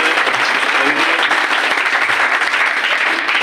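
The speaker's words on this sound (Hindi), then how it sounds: "इनके लिए एक बार जोरदार तालियां दीजिए" Loud, sustained applause from a crowd at a marketing company's recognition event fills the whole short stretch with dense clapping at a constant level.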